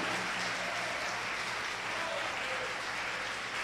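A church congregation applauds together, a steady broadband wash of clapping that holds at an even level throughout, dense and sustained with no voices standing out.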